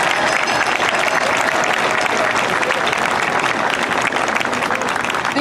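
Loud, dense audience applause welcoming guest speakers to the stage, sustained and steady throughout with many hands clapping close by.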